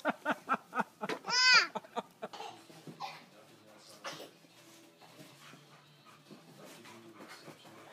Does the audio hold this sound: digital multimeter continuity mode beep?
no